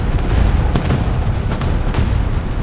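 Battlefield artillery strikes produce heavy, continuous rumbling booms with several sharper blasts over a dense roar, loud and close.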